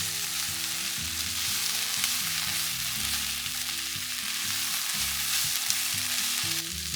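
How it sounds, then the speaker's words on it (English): Onions sautéing in a pan toward caramelizing make a steady, close sizzle and crackle that holds even and unbroken throughout, with low hum underneath and no talking. "So we're just going to continue to saute these onions until they're nice and caramelized."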